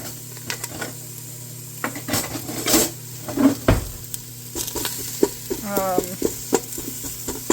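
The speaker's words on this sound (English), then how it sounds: "I'm going to put the bacon in here, fry that up" Chopped frozen bacon fries and sizzles in a pot, with a steady hiss under repeated metallic scrapes and clanks as a utensil stirs it against the pot's sides.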